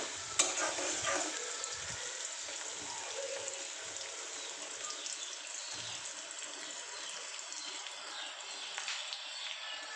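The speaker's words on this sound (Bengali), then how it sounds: "সেই পেঁয়াজগুলো গরম তেলের ভিতরে হালকা করে ভেজে নিচ্ছি" Onions fry lightly in hot oil for a fish curry, making a continuous close sizzle with occasional stirring scrapes. It runs alone throughout, with no talking.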